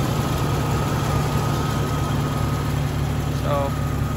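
A 1999 Jeep Cherokee XJ engine idles with a steady low rumble and constant hum throughout, close and even, with a brief faint voice-like tone near the end.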